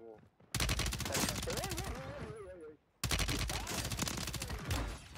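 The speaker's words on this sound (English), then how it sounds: "Of course I get shot in the back." Rapid automatic gunfire rattles in two loud sustained bursts during a Warzone 3 match, with a short break between them, while someone talks over the shooting.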